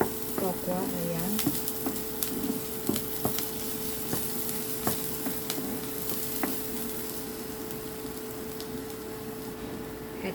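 Garlic and onion sautéing in oil in a pan previously used to fry tofu, with a steady close sizzle and scattered clicks of stirring throughout, no talk.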